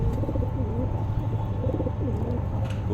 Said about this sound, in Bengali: ঘুঘু দুইটা